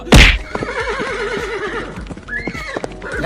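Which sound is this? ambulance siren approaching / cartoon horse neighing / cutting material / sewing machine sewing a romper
cartoon horse neighing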